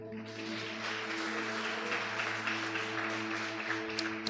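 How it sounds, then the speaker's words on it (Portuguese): Church congregation applauding during a fifth anniversary service, a sustained even patter of clapping over a steady instrumental drone, somewhat distant and moderate in level. "Você pode aplaudir o Senhor."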